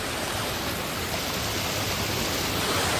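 Cold water rushes steadily through a deep stream beside a rubber plantation, a dense, continuous close-up wash with no voices over it.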